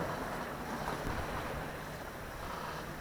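Choppy sea against a sailboat on a Bay of Biscay crossing, a steady hiss of waves and water with wind noise throughout, no talk.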